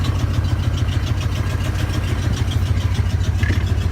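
An aging, high-mileage Ford Bronco engine runs at a lumpy, rhythmic idle, a steady pulsing low rumble close by with no talk over it.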